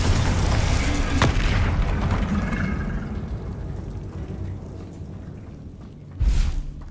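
A Confringo fire-blast spell explodes in Hogwarts Legacy: a loud, broadband boom that rumbles and slowly fades over several seconds, followed by a sharp fresh burst near the end.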